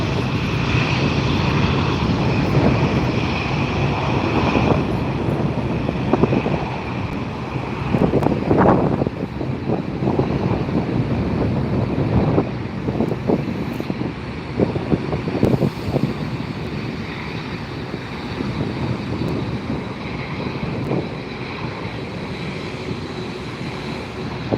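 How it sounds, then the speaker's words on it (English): An Aeromexico jet takes off low overhead at LAX, a loud, continuous engine roar with rushing, gusty texture that stays strong throughout, with no voices. "There goes Aero Mexico."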